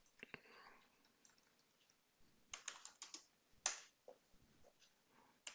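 Someone types a command to install wget on a computer keyboard, with bursts of close, quiet key clicks that cluster in quick runs and then pause, with no voices.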